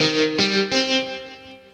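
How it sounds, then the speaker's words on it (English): Three bright guitar chords struck in quick succession in GarageBand for iOS, each ringing out with a spacious reverb tail that fades away. "And then a reverb."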